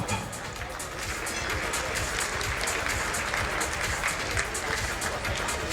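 An audience claps at the Jewellers for Hope commencement event, a thick, sustained burst of many hands close by, lively and even throughout with faint crowd murmur mixed in.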